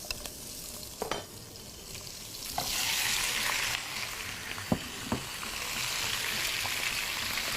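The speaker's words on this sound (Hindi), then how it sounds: "यहाँ पर चिकन के पीसेस मैं इसमें डाल दूँगी। इसको हम पहले फ्राई करके निकाल लेंगे।" Chicken thigh pieces fry in oil with a sizzle that rises sharply after a few knocks and then holds as a bright, hissing spatter close by, with occasional clacks.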